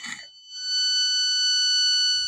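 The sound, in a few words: electronic buzzer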